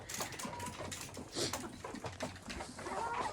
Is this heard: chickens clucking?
yes